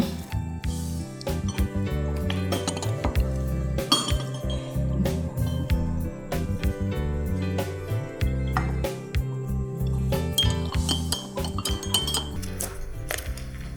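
Dishes, glasses, pots and cutlery clink and clatter steadily during washing up in a home kitchen, with dense rapid knocks and rings throughout and no talk.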